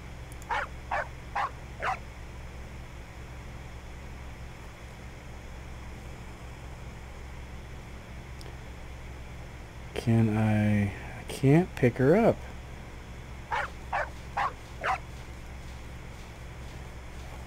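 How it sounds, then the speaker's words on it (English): A dog barks in the video game Animallica inside a laboratory, giving short, sharp yips in quick clusters at the start and end, with a brief spoken voice in the middle. "Well, she's going to be our laboratory dog."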